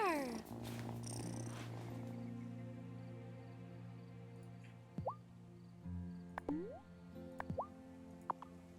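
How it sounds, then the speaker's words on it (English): A cat in the video game Wylde Flowers gives a soft, steady purr, faint and low-level, with a few short chirpy bloops and game effects popping in over it. "Listen to that purr."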